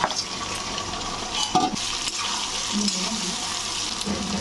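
Fried duck meat tipped into a pan of cooking masala for a Bengali-style duck bhuna, giving a steady close sizzle and stirring scrape with a few louder clatters, no talking over it.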